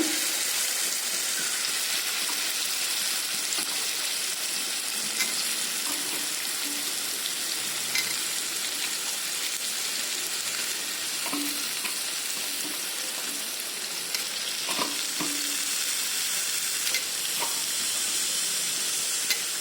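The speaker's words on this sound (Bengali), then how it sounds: "আর এইটারেও ভালো করে মশলার সঙ্গে একটু ভাজা ভাজা করে নিন।" Zucchini frying with spices in a pan on a gas flame, giving a continuous bright sizzle close by, with occasional soft scrapes and taps from stirring and no voices.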